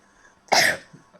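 A young child coughs once in a short, harsh burst, fairly close and loud against a quiet room.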